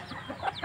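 Burmese hens give a few short clucks and soft calls, close by, with no other sound around them.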